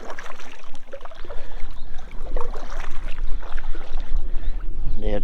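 Kayak paddling on the Murray River at Pike River, with irregular splashes and water swishes from paddle strokes close by, broken by brief gaps and some wind.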